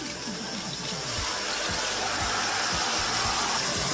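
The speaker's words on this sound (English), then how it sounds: "it's filling it up." Water from a tap pouring steadily into the plastic tub of a Giantex mini portable washing machine, a constant close gushing hiss with faint low gurgles.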